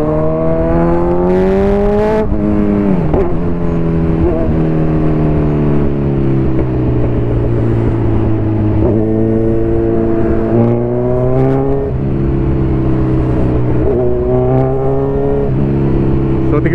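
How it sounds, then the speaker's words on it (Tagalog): A Kawasaki Z1000R motorcycle fitted with a titanium exhaust and cat delete revs loudly and close by. Its engine note rises and falls through repeated rev sweeps and sustains a steady idle between them, with continuous engine noise throughout. "ang ganda na ng tunog nito actually yung motor na to"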